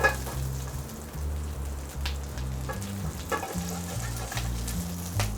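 Chopped ginger, garlic cloves and green chili frying in a pan give a steady, close sizzle broken by small clatters as they are tossed, with no one talking.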